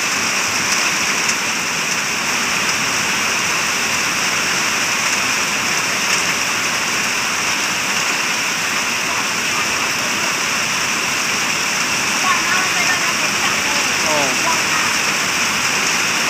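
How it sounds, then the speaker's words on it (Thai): Heavy evening rain pours down in Rangsit, Thailand, a dense, steady hiss of water striking the ground that continues unbroken and loud throughout. "ฝนหนักครับ"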